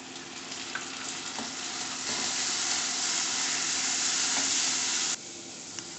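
Tomatoes go into softened onions frying in a pan for a keerai gravy; a steady sizzle swells a little louder partway through, then drops sharply near the end, with small clicks and no talking.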